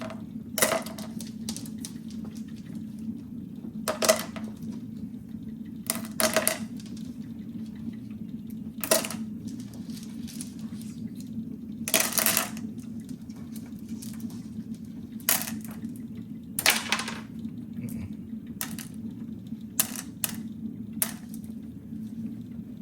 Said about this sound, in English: Start dumping rocks in.